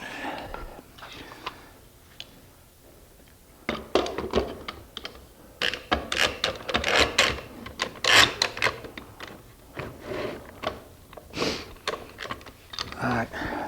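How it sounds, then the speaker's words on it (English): Wood clamps being tightened onto freshly glued woodwork for a pie safe, giving a run of sharp knocks, clicks and ratcheting taps in irregular bursts, close and fairly loud, with soft speech in the background. "Clamps on it."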